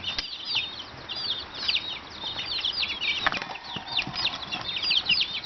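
A chicken flapping its wings and flying out outdoors, with bursts of wing beats among clucks and bird chirps in the background, moderately close.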